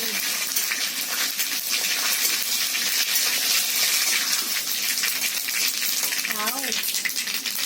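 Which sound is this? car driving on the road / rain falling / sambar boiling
sambar boiling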